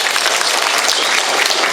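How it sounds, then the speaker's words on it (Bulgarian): A dense burst of audience applause at a culture award event in Dimitrovgrad, loud and close, many hands clapping continuously without a break. "Аплодисменти за тях."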